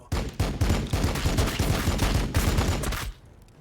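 Units in the Warhammer 40k Battlesector video game open fire on a xenos swarm, unleashing a rapid, rhythmic volley of loud gunshots for about three seconds before it cuts off abruptly.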